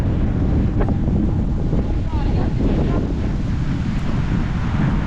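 Heavy wind buffets the microphone during a bike ride in a constant low roar, with faint water or boat noise underneath.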